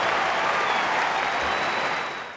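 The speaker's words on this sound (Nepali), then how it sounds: "फेडररको प्रत्येक प्रहारमा दर्शकले ताली बजाए।" Tennis crowd at the Laver Cup applauding Federer, a dense burst of clapping that holds steady and then starts to fade.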